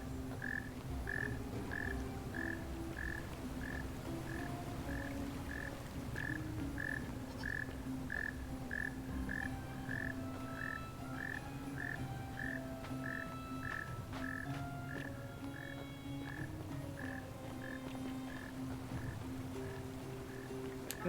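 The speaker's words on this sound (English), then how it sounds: "I will find you, frog, and I will end you." A frog in a video game croaks in a long run of evenly spaced chirping pulses, steady and moderately loud, over a faint ambient bed with no voices.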